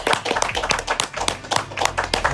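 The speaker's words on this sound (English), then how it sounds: "somebody in the table says an applause for the pitmaster and everybody claps, thanking the asador" A table of diners claps together for the grill cook at a traditional Argentine asado, a dense burst of steady hand claps lasting a couple of seconds, close and loud with no talk.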